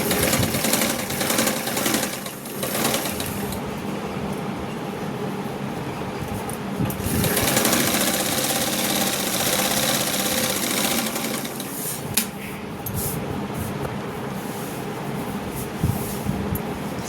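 A sewing machine stitches the lining of a blouse with a fast, continuous mechanical rattle and hum, steady and close throughout with slight shifts in pace.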